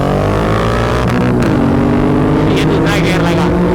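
A 650 cc motorcycle in a road drag race between a 2022 Honda CBR 650R and a 2024 Royal Enfield Continental GT 650 pulls hard in fourth gear, its engine roaring loud and close with pitch climbing steadily throughout.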